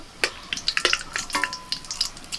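Whole spices, bay leaf, cardamom, cinnamon and cloves, crackling in hot oil and ghee as a tempering for chicken kosha, with a light steady sizzle broken by a few sharper pops, close up, with no talking.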